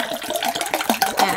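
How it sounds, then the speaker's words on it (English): Water from a hotel supply is poured into a personal water bottle in a steady, gurgling trickle, close and moderately loud, with no talk. "Transfer natin yung water."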